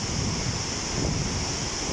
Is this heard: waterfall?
yes